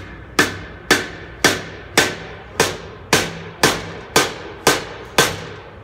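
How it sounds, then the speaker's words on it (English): Ten evenly spaced, sharp knocks of a plastic-faced dead blow hammer driving a crankshaft into a Honda GX390 engine, each with a short ringing tail, close and fairly loud. "I'm gonna just take this dead blow hammer that's got a plastic face."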